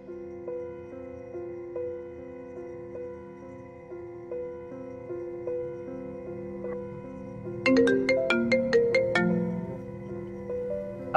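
A melodic mobile phone ringtone plays in a Vietnamese romance drama, its steady repeating notes continuing alone for several seconds before a brighter, louder chiming phrase takes over near the end.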